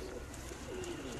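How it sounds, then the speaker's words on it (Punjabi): A Royal Teddy pigeon gives a soft, low coo, short and faint, close by against quiet background noise. "ਬਹੁਤ ਸ਼ਾਨਦਾਰ ਕਬੂਤਰ ਜੀ"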